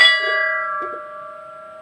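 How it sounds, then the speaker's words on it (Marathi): A temple bell at Amruteshwar temple in Devghar is struck once, its bright metallic tone ringing out and slowly decaying in a quiet interior. "पण घंटा वाजव आपण थोडीशी."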